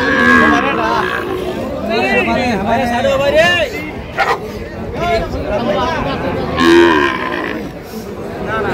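Sahiwal breed bulls moo repeatedly at a busy livestock market in Fulbari, with long, loud lowing calls rising over constant crowd chatter and voices talking nearby.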